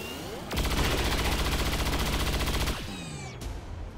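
Sustained automatic gunfire from XCOM 2: War of the Chosen: a loud, dense volley rattles without pause for about two seconds, then stops abruptly, leaving faint game ambience behind.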